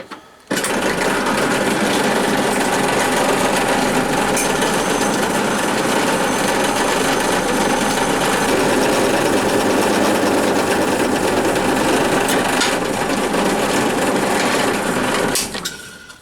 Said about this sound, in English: if I drill it on that centre pop mark, it'll go through the middle